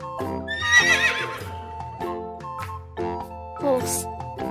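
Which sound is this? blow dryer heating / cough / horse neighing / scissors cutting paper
horse neighing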